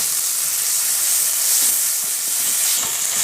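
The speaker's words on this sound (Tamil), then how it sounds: "இஞ்சி பூண்டு பேஸ்ட் கொஞ்சம் நல்லா வந்து கொஞ்சம் வதங்க விட்டுடலாம்" Ginger garlic paste sautés in a pan, giving a constant bright hiss with faint stirring taps underneath and no voices.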